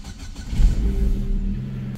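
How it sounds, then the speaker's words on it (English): A car engine in Kyiv starts on a cold morning, giving a brief crank and then catching into a low, close idle with a slight rev. "Now, let's start the car."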